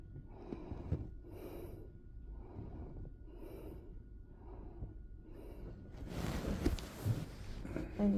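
A patient takes several soft, rhythmic deep breaths in and out during a medical exam, close to the listener but faint, ending in a louder, rougher exhale with some handling noise.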